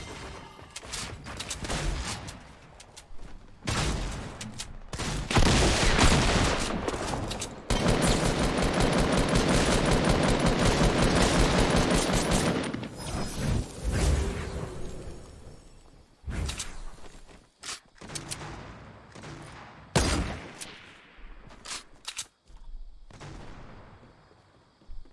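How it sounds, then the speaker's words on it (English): Heavy gunfire from a large gun in the Fortnite Battle Royale shooter, loud dense bursts and sustained volleys through the middle stretch, then scattered sharp shots and thuds toward the end. "Somebody shot with a large gun."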